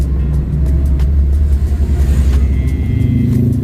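A 1980 Toyota Corona classic car on the road, heard from inside as a steady low engine rumble and road drone, with the engine note climbing slightly toward the end.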